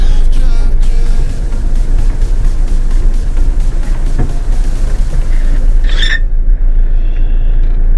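A vehicle drives across the Makgadikgadi salt pan desert in Africa, a loud steady engine and road rumble holding throughout with no talking.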